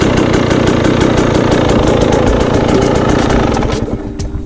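A warmed-up KTM 300 XCW TPI two-stroke motorcycle fitted with a fuel injector relocation kit idles loud and close in a steady, even drone, the engine note easing slightly near the end.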